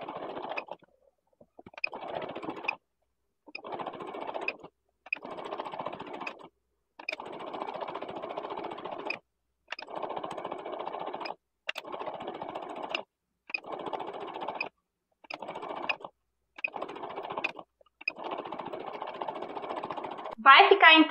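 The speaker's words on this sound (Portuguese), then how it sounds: "E costuro mais um pouco." A sewing machine stitching a curved seam in fabric runs in about ten short, steady bursts separated by brief pauses, close and clear with no talk over it.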